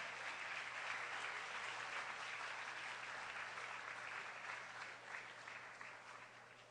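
Warm applause at a university science week event honouring professors, continuous dense clapping from a sizeable audience, steady and uninterrupted.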